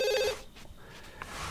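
Telephone ringing in The Sims 2, a short electronic ring burst at the start, clear and close, followed by quieter game ambience.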